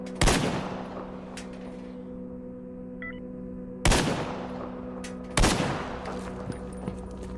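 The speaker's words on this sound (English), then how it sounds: "I'm going to start shooting at the boar from here" Three loud, sharp gunshots from a rifle in the video game Stalker GAMMA, fired at a boar. The shots are spaced irregularly, each ringing out with a long echo tail over a steady low ambient hum, and no one speaks.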